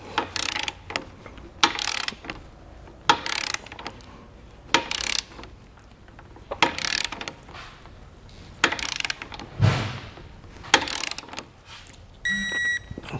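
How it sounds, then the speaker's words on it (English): Torque wrench ratcheting as it tightens the bolts of a Class III trailer hitch on a 2022 Toyota Sienna: close, loud bursts of rapid clicking repeat roughly every second, with a short electronic beep near the end. "set your torque wrench and go through and let's get these torqued down"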